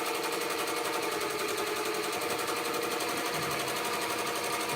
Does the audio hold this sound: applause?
no